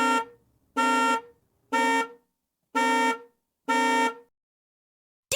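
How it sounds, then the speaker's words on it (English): A bus horn honks five times in a steady, evenly spaced rhythm, each blast loud, bright and close, followed by silence. "What sound does a horn on the bus make?"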